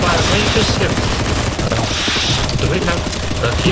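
Dense, rapid gunfire from many weapons rattles continuously in a CS:GO zombie escape round, loud and unbroken throughout.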